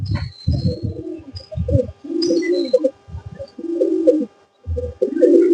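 Several high flyer breeding pigeons coo repeatedly at close range, with deep throaty phrases in bursts and brief pauses between them, accompanied by some faint chirps in the background.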